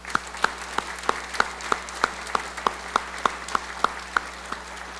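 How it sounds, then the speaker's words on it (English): Slow, evenly spaced claps sound about three times a second over a low steady hum. They come across as a few hands rather than a full crowd. "They deserve a round of applause."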